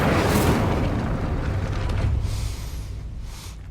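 The Incendio fire spell cast in the Hogwarts Legacy video game, a loud, close whooshing burst of flame that roars at once and then slowly fades.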